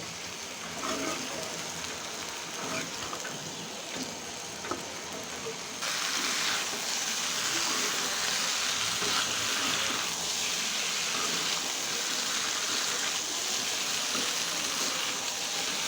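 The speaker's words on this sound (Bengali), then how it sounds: "এর জন্য মাছগুলোকে ভালো করে আলুর সাথে কষিয়ে নিব।" Fish pieces and potatoes frying together in a pan, a soft continuous sizzle with scattered crackles that grows denser and louder partway through, close and steady with no voices.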